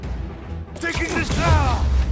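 Turret gunfire in the video game Marvel's Spider-Man 2, a burst of bangs and rapid mechanical shots building up after a quiet start, with game voices and effects mixed in.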